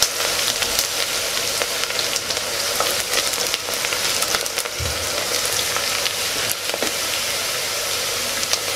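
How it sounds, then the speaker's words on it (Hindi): Chopped onions fry and brown in a pan for an instant vegetable biryani, giving a steady close hiss of sizzling oil with faint stirring scrapes throughout and no voices. "प्याज डाल देंगे, प्याज को हल्का सा ब्राउन होने देंगे।"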